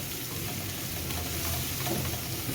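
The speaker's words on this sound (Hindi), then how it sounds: "बस इस तरीके से सारा मसाला बढ़िया से 1 मिनट तक भून लेते हैं।" Green chillies and masala sauté in a pan for kachori filling with a continuous, close, dense sizzle and frying crackle, and light stirring scrapes run through it.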